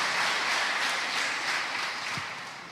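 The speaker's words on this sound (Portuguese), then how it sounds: "Um aplauso para o pastor Vitor." A church congregation applauds pastor Vitor, a broad, steady wash of many hands clapping together that stays loud and then slowly tapers toward the end, with no voices over it.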